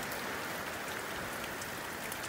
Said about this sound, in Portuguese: Olha onde que a chuva tá exatamente.